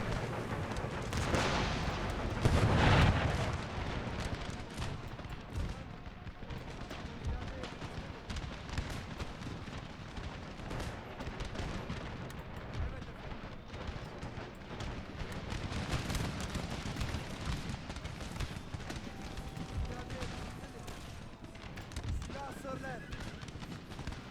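Musket volleys and artillery fire in the Empire Total War video game with the Darthmod mod, dense rumbling battle noise with crackling gunfire bursts throughout and a louder boom near the start.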